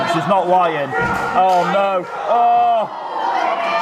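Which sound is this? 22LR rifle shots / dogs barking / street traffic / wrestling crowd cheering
wrestling crowd cheering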